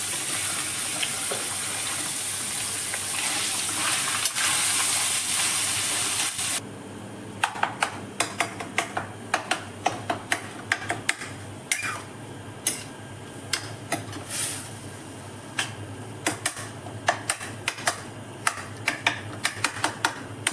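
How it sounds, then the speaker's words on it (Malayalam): Minced beef keema frying in olive oil in a pan over a low flame, a steady sizzle broken by frequent sharp crackles and pops, close and alone with no talk. "നമ്മൾ ഇട്ട കീമ ഇങ്ങനെ ചെറിയ തീയിൽ അത് വേവിച്ചുകൊണ്ടിരിക്കുകയാണ്."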